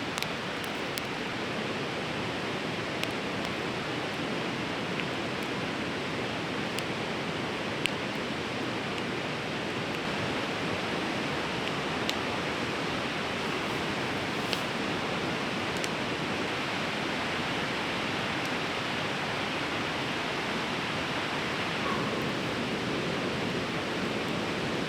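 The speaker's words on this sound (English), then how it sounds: "Very calm morning, but the river is still very loud." A loud river rushes continuously near a campsite on a calm morning, a dense, unbroken roar of flowing water with a few faint clicks and no voices.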